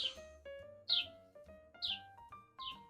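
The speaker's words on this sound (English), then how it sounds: "Can you hear that bird? Because oh my god, it's so loud." A bird chirps loudly and close by in repeated bright, rising calls, about four in quick succession with short gaps between.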